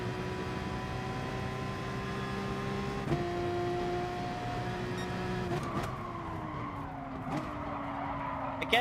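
A race car in Gran Turismo Sport brakes into a corner with a steady engine drone and a long tire squeal that shifts pitch as it slows. The sound runs continuously at moderate loudness, with a few sharp clicks along the way.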